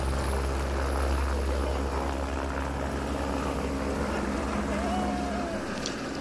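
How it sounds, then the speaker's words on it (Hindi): A helicopter taking off at Kedarnath gives a loud, steady rotor and engine drone that holds throughout, with a voice talking faintly over it. "हेलीकॉप्टर की स्पीड इतनी ज़्यादा होती है कि टेक ऑफ के चंद ही मिनटों में वो गायब सा होने लगता है"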